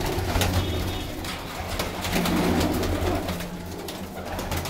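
Sialkoti pigeons of fancy breeds, including golden and teddy varieties, cooing steadily in a flock at close range, with layered soft calls and some background noise throughout.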